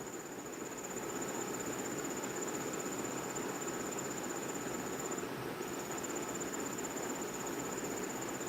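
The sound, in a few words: squeaking from a fan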